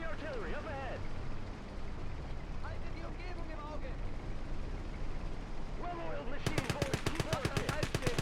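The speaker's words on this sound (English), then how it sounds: "Let's get that machine gun up." A machine gun in the Gates of Hell war game opens up in rapid bursts near the end, fired over a constant din of battle with distant shots and rumbling.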